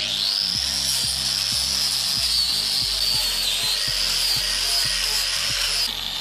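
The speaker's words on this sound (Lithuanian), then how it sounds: "tiesiog užsidėjus ant šlifuoklio kampinio" An angle grinder fitted with sandpaper sands roof timber during house construction, giving a loud steady high whine throughout, broken by a regular series of knocks and bumps, then cutting off near the end.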